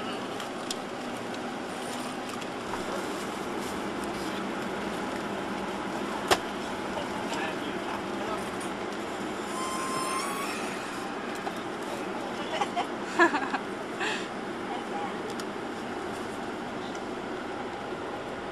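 Steady engine rumble and road noise inside a moving double-decker bus, continuous throughout with a few brief knocks and rattles.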